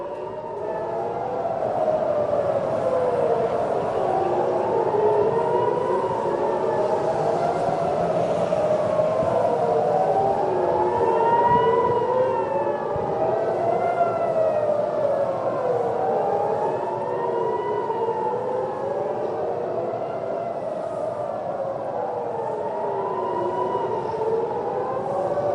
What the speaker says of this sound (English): I want you to for a moment hear the air raid sirens